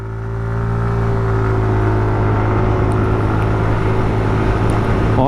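A 160cc-class scooter, Hero Xoom 160 or TVS Ntorq 150, pulls away at full throttle, its engine drone rising and holding steady and loud close by, with no talk over it.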